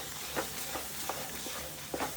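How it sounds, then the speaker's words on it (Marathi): A mutton masala mixture is stirred in a hot pan, with a soft, steady sizzle broken by several brief spoon scrapes spaced about half a second apart. "याला चांगलं मिक्स करूया."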